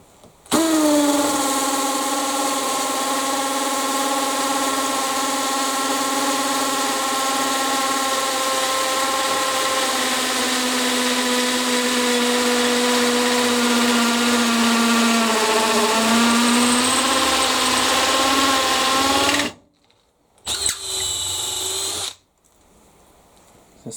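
A Makita cordless hammer drill in high gear bores a 16 mm hole, a loud steady whine that holds for about nineteen seconds, dips slightly as it slows near the end, then stops with a brief final burst.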